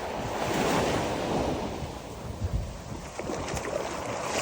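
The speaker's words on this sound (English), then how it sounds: "I just love the way the waves crash up on the shoreline like that" Ocean waves break and wash up the shoreline at Kaanapali Beach on Maui's north shore, a loud steady roar of surf with some wind buffeting the microphone and no voices.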